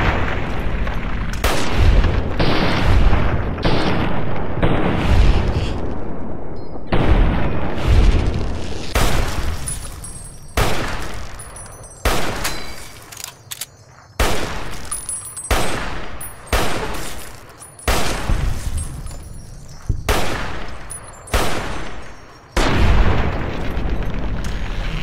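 Repeated loud gunshots from the video game Fallout: New Vegas, fired in spaced single blasts and short clusters with booming tails over about twenty-five seconds. No speech.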